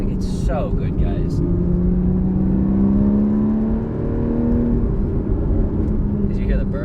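A Porsche Cayman engine drones steadily from inside the car as it drives, its pitch slowly rising, with road noise underneath and people talking over it.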